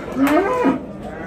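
A single close, loud moo from a cow at a livestock market, rising and falling over about half a second.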